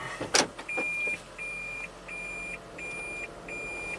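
A Toyota Prius backing up, a faint start of motion followed by a repeating electronic reversing beep in long, evenly spaced tones, close and clear with no talking.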